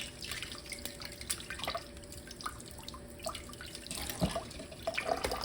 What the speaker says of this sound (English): smash it against something under running water